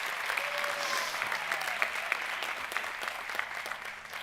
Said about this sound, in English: Another round of applause for the great work in touching lives and making ripples.